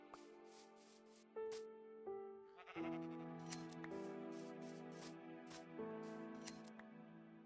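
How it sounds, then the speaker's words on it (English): Minecraft sheep bleat several times in a row, close and clear, each cry wavering and overlapping the next, with soft scraping shear-like rubs between them and no talking. "I kind of was reshaving the same sheep"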